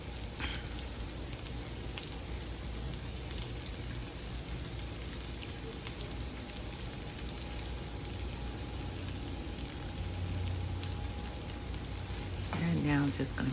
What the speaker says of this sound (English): my skillet is nice and hot, I've sliced up some peppers and onions. So in goes my peppers.